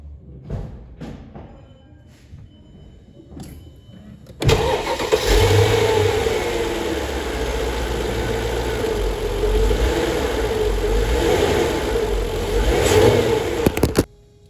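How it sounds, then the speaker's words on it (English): A Mercedes-Benz W211 E500 V8 engine cranks and catches, then runs loudly with a few revs rising and falling before cutting off abruptly near the end. "So I'm gonna start the car and engine brake it."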